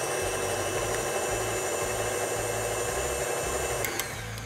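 An electric mixer whirs steadily for several seconds, beating vanilla almond sugar cookie dough until fluffy, with a constant close motor hum and a faint rattle near the end.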